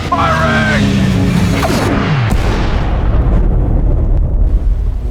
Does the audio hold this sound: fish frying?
no